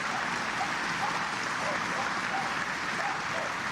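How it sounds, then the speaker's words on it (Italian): Dense, sustained applause from a large crowd at a funeral as the coffin arrives, a loud, even wash of clapping with no pauses. "Al suo arrivo il feretro è accolto da un applauso"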